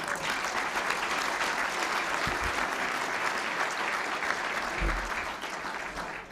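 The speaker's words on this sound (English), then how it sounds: "you can give some applause now" Luncheon crowd at the National Press Club applauds the head table, a full, sustained round of dense clapping lasting about six seconds, loud and even before tapering slightly at the end.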